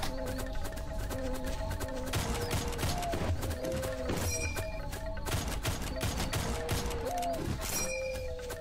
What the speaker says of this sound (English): Where's the dude shooting at me from up here?